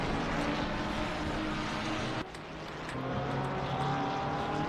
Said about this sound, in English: listen to those V6 engines.